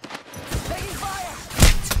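Apex Legends gunfire comes as rapid, close bursts of shots with a heavy impact near the end, mixed with game sounds and a brief voice.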